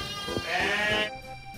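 Sheep in a flock at a lambing shed bleat, with one clear, close, wavering bleat over faint background calls.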